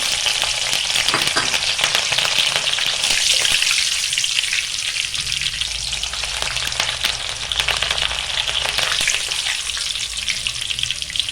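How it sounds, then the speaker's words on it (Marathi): Green chillies frying in hot oil for Diwali chivda, a bright continuous sizzle and crackle close up with brief stirring scrapes, no talk. "आता आपण मिरच्या सुद्धा भाजून घेऊया"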